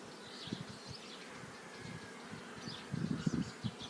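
A steady drone of honey bees surrounds hives and nucleus colonies during a rapeseed nectar flow, with single bees zipping by close and a few soft low bumps from handling the hive boxes.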